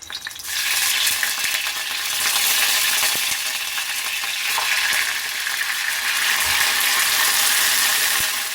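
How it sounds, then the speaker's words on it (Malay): A sudden loud sizzle erupts as blended shallots, garlic and ginger hit hot oil, then a steady crackling fry continues with occasional light clinks. "Apabila minyak sudah panas, kita akan masukkan bawang merah, bawang putih dan halia yang telah kita blender."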